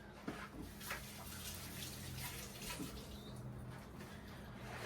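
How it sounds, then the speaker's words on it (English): Steady running water from a tap as hands are wetted before folding sourdough dough, a continuous splashing hiss with a faint bird chirp in the background. "Go ahead and wet both hands this time for the fold."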